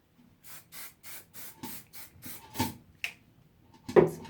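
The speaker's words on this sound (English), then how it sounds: "now I'll give that probably a final spray." Rapid short bursts of aerosol hairspray, about eight quick pumps in a steady rhythm, followed by a couple of softer hisses and a brief rustle, close to the microphone.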